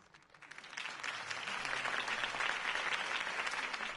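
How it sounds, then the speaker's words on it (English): Video game applause swells from scattered claps into a sustained, dense round of clapping from a large crowd. "could have heard that applause"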